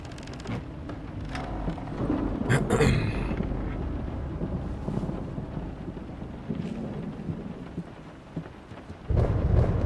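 Thunder rumbles and rain hiss continuously in the horror video game Layers of Fear (2023): a low, steady storm bed with a louder roll early on and another swell at the end.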